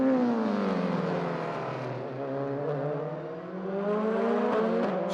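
Mercedes-Benz DTM touring race cars from the 2004 season, engines screaming at high revs as they race nose to tail. The pitch sweeps and shifts, loud and continuous with no voices.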